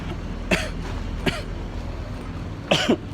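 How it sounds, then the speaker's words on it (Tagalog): Three short coughs, two spaced singly and then a doubled cough near the end, fairly close over low background noise. "inuubo ako"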